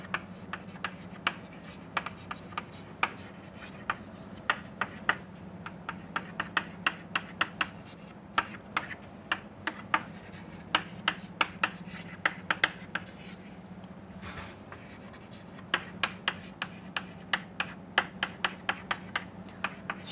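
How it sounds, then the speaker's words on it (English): Chalk or pen scratches and taps across a board while equations are written, a steady run of quick close strokes over a faint hum. "Okay, let us write this down formally."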